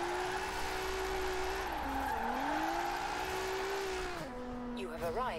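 Car tires skidding on snowy mountain roads in Forza Horizon 4, a long sustained squeal with wavering pitch over a steady engine drone, bending down near the end as the slide ends.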